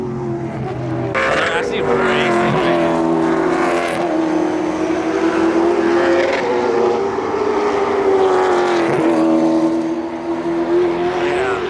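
An 800 hp Nissan R35 GTR engine drones loudly nearby, its pitch rising and dipping through revs, with people talking over it.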